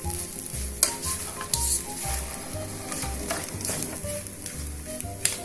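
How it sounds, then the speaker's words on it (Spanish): Rice in curry sauce sautéing and sizzling in a hot pan, with steady frying hiss and repeated stirring scrapes in a rhythmic pattern throughout, close and moderately loud. "Recuerden que estamos salteando el arroz"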